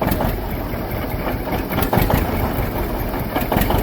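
A John Deere 730 tractor engine runs steadily after a belt start, its first start in eight years with a rebuilt water pump, producing a continuous loud low rumble with faint knocks and no talk.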